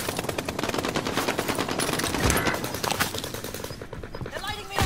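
Sustained automatic gunfire in an online battle royale shooter, rapid bursts rattling almost without pause, loud and close throughout, with a voice occasionally talking beneath the shooting.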